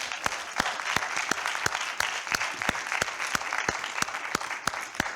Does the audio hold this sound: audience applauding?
yes